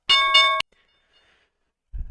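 Opening bell at the stock market open, a bright electronic clanging ring lasting about half a second, loud and close, followed by near silence and a low thump.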